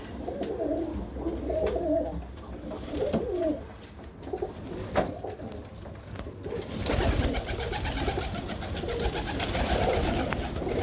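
Soft, repeated cooing of Birmingham Roller pigeons in a low murmur, joined by more birds and louder rustling toward the end.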